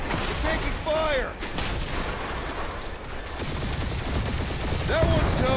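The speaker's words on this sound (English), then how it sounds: "We're taking fire." Gunfire in a firefight in Marvel's Guardians of the Galaxy, rapid shots crackling throughout amid explosions and game music, with voices calling out over the battle.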